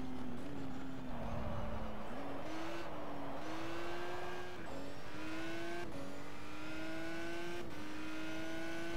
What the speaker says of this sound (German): Ich kann im dritten Gang gerade mal nur aus der Kurve raus beschleunigen